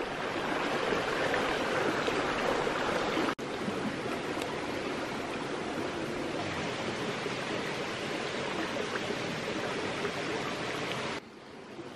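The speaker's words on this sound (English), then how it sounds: "Make use of this stream before it goes away." Mountain stream water rushing along the Grafton Notch Trail, a steady broadband wash of flowing water, close and constant for the whole stretch, with a couple of brief handling bumps and no talk.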